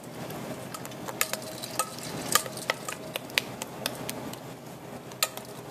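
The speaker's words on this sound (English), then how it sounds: "we're going to try to press this through the strainer" Thick pastry cream for chocolate eclairs being pressed and scraped through a metal strainer, a run of close, soft scraping clicks and taps against the mesh and bowl at an uneven rhythm.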